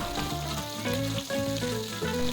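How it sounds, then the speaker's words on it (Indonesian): Tuna pieces dusted with wheat flour fry in hot oil, a loud, dense crackling sizzle with popping spatters running steadily throughout. "Kemudian kita goreng supaya ikannya tidak meletus."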